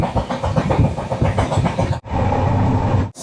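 A passenger train running overnight toward Ranchi, heard from inside as a loud, steady rumble with rhythmic clickety-clack of wheels over rail joints, briefly cutting out before the rumble resumes.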